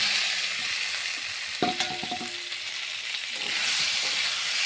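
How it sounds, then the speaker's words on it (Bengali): Fried potatoes cook with spice paste in a pan for egg curry, giving a constant loud sizzle and hiss, with a few stirring knocks and a brief tonal clink near the middle; no talking. "মশলার সঙ্গে একটু কষাবো আলুটা।"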